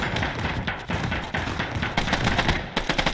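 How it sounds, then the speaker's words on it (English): Sustained machine gun fire in a World War II video game, a rapid continuous crackle of dense shots with brief gaps, loud and close throughout. "Alright, got an MG in the town."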